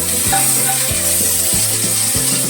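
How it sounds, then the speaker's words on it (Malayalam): Sautéed onion with tomato and green chili being stirred in a hot pan, loud close sizzling with a rhythmic series of spoon scrapes about every half second. "ഇനിയിപ്പോ തക്കാളിയും പച്ചമുളകും കൂടെ ഇടാം. എന്നിട്ട് നല്ലപോലെ ഇളക്കിയെടുക്കാം."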